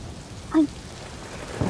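Rain falls steadily as a soft, continuous hiss, with one brief knock partway through, in a short quiet stretch.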